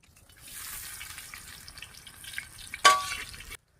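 Steady frying sizzle from catfish in a pan, swelling into a sharp, loud hiss near the end before cutting off abruptly.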